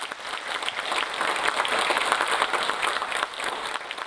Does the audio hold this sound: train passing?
no